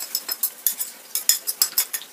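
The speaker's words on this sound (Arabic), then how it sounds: "نخلطه كامل هكذا هكذا" A utensil stirs a spiced lamb liver mixture with black pepper, salt and ginger, producing a quick series of about a dozen light metallic clinks and scrapes in an irregular rhythm, close and alone.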